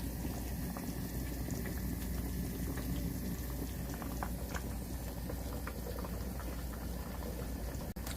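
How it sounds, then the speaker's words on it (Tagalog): Budae jjigae, a sausage, ham and kimchi soup with noodles, boils hard in a pot, giving a steady, dense bubbling and popping up close with no voices. "Habang kumukulo siya"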